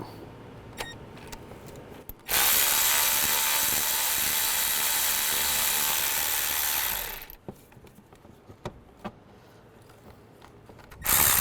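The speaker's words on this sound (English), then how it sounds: "There's a 10mm socket. Just take the bolt out." A ratchet fitted with a 10mm socket backs bracket bolts out on a 2005-15 Nissan Xterra during AC condenser fan replacement. A loud, steady mechanical burst runs about five seconds between quieter, sparse clicks and taps.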